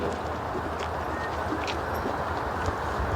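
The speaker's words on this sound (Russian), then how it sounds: "И вот сейчас задача поймать лошадок, которые сейчас без седла рванули вперед." Riderless Bashkir horses gallop at a race, their hoofbeats a dense, continuous drumming under steady crowd and field noise, fairly loud throughout.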